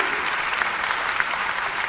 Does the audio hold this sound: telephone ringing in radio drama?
no